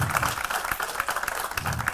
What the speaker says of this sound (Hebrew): מגיע לו הרבה כפיים